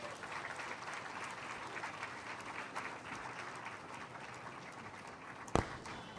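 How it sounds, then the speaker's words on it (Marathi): A seated audience at a book launch event claps together, giving a fairly faint, steady wash of applause that holds evenly throughout, with one sharp knock near the end. "एकदा जोरदार टाळ्या आपल्या सगळ्यांकडून."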